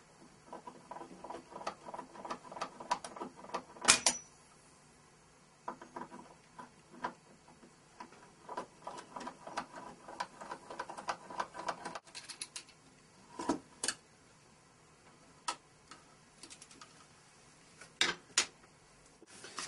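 Screws being removed from an RV electric plug housing, quiet clicks and scraping taps in irregular bursts with a few sharper knocks close by.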